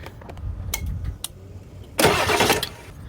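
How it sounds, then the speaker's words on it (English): A Ford F250/F350 pickup's 7.3L engine is cranked over and fires, a short starter grind after some workshop clatter and then a loud burst of the engine catching for about a second. "was just turn the engine over to make sure the belts moved and that they stayed in the groove"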